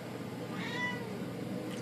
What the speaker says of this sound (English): Now that's a fucking mountain cat.